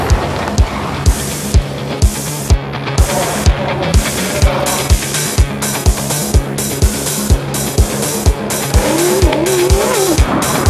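V8 Supercar race cars scream past at a Darwin circuit, engines roaring loud and continuous with a regular run of sharp bursts and tyre squeal, the crowd and track noise filling the background.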